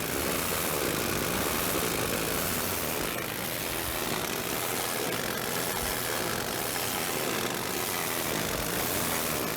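An engine runs at idle, a steady, even droning hum with a faint propeller-like flutter, constant in level throughout with no speech.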